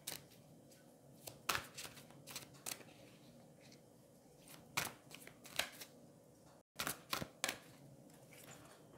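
Mystical Moments tarot cards shuffled and drawn by hand in a quiet room: irregular sharp riffling snaps and soft slides, with scattered crisp card slaps spread across the stretch.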